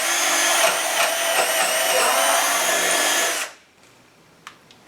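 A Festool CXS compact drill fitted with a right angle chuck adapter drills a hole, giving a loud, steady high-pitched whine for about three seconds before stopping abruptly, followed by a few faint clicks.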